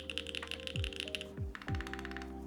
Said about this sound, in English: if you guys stick around after this keyboard sound test